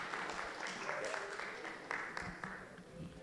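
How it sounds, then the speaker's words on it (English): Faint applause at a pensions regulatory authority forum as speakers come forward, light scattered clapping from a small audience heard at a distance, with some background murmur. "A round of applause for them as they come."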